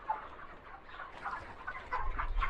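Chickens on a poultry farm give soft, scattered clucks at close range, with a low rumble building near the end and no talk.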